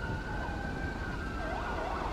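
An ambulance siren in GTA V with the LSPDFR mod wails steadily and then shifts into a rising-and-falling yelp over a dense traffic rumble.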